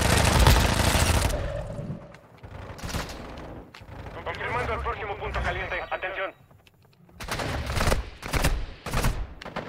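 Gunfire in the Warzone Mobile shooter game, bursts of rapid shots and loud bangs coming and going over about ten seconds amid game noise and a radio-like voice, with gaps of quieter ambience between.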